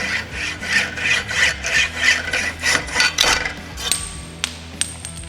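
Hacksaw blade pushed back and forth through a carbon bicycle steerer tube on a Tarmac SL9, a steady rhythmic rasping of about a dozen close strokes, ending in a few light metallic clinks.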